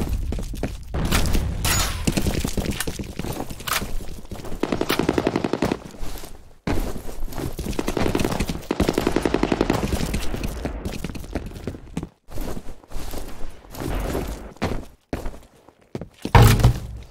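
Dense, rapid automatic gunfire and shooting from the multiplayer shooter F.E.A.R. Combat, sustained bursts with thuds and impacts running almost nonstop, loud and close, with brief gaps near the end.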